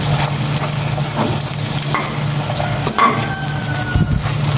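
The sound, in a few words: frying rice sizzling in a pan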